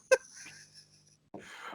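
A person sneezes once, sharp and brief at the start during a podcast recording, followed by quiet breathy sounds and a faint murmur, all at low volume.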